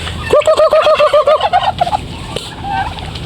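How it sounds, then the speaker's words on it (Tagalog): A domestic turkey gobbles loudly up close, a rapid rattling call lasting over a second, then quieter background noise with a faint bird call. "ipakain sa ating mga alagang pabo"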